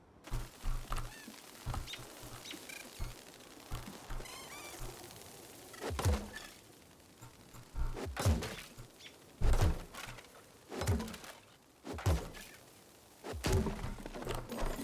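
A tree is destroyed in the video game Grow: Song of the Evertree with a series of hollow thunks and woody thuds, spaced irregularly over a quiet ambient background with faint birdsong.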